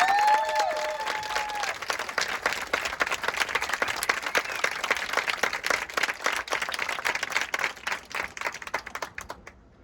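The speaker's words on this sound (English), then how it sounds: "So how about another round of applause for all the amazing work?" A crowd gives a round of applause at a school's outdoor Pass in Review ceremony, a sustained, dense clapping that holds steady for several seconds and then thins to a few last claps before stopping.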